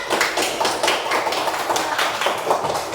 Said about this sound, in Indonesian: Kita beri tepuk tangan untuk teman kalian